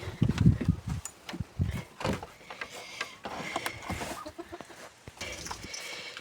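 Hens cluck and murmur close by in short irregular bursts, with some rustling and scuffling between the calls.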